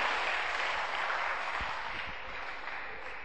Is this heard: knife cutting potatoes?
no